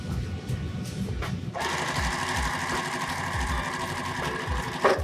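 A sewing machine stitches quilt pieces together, starting with a short burst, then running in a fast steady mechanical rattle for several seconds, close and prominent.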